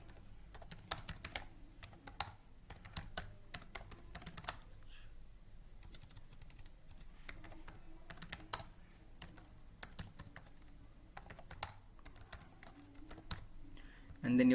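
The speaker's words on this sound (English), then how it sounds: "so you type in your address" Fingers typing on a computer keyboard, quick irregular key clicks and clacks in bursts with brief pauses, close and fairly quiet, while a person talks over them.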